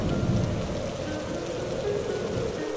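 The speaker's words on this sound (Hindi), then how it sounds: "तेज हवाएं भी चल रही है, बिजली भी कड़क रही है" A rainstorm with thunder in an animated children's story pours down in a dense, steady patter, low rumbles rolling beneath the rain, with no voices heard.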